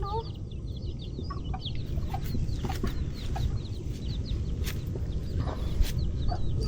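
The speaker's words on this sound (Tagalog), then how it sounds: "Chicken hunting. Hindi nila makuha yung sisiw eh." Chickens cluck and chirp outdoors while people try to catch a chick, scattered bird calls over a rough, wind-buffeted background with faint voices.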